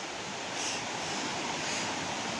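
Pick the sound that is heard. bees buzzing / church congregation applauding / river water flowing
river water flowing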